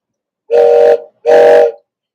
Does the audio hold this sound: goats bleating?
no